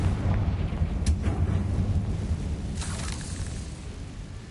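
An explosive Confringo spell is cast in the video game Hogwarts Legacy, giving a sharp burst followed by a rumbling blast and a second crackling eruption over a dense, booming low-end battle din.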